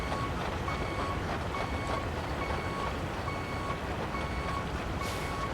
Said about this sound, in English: Enjoy the beeping, guys.